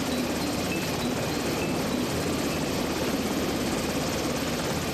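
A Mark III Seahawk naval helicopter flies overhead, a steady, dense rotor-and-engine roar holding constant throughout, moderately loud with no voices.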